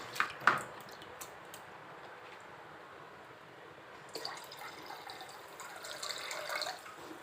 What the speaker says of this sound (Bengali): দেখো ভাতের চালটা আগে ভালো করে ধুয়ে নিলাম